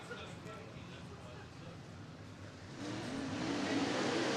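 Late model race cars roaring as they accelerate on the green flag during heat races at an oval track, the engine noise swelling louder partway through beneath an announcer's talk.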